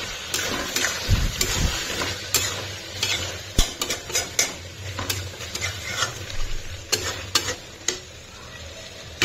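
Mutton being stir-fried in a pot, with a low sizzle under frequent rapid clanks and scrapes of a metal spoon against the pot, close and busy throughout.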